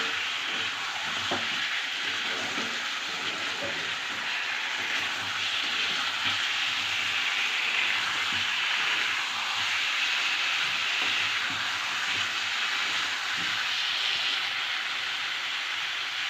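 Ground cumin and spices frying in a pan for a Bengali curry make a continuous, even hiss that stays steady and close throughout, with no talking.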